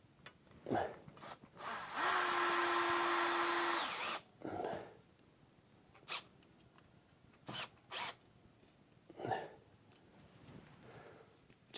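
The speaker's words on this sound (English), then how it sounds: "So I'm tightening the screw." A power drill drives a screw through a wall strip into a brick wall for shelving, giving one sustained whirring run of about two seconds, close and loud, surrounded by short clicks and handling knocks.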